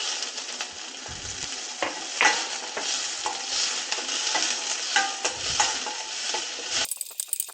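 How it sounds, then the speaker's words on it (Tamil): Onions sizzle steadily in a hot pan for a prawn curry, with a constant frying hiss and occasional scraping, clinking stirs, loud and close with no talking. "வெங்காயம் போட்டுக்கலாம்"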